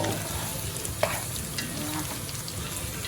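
Red pepper stir-fries in hot oil for Cebu-style adobo, a steady close sizzle with a single sharp utensil clack partway through.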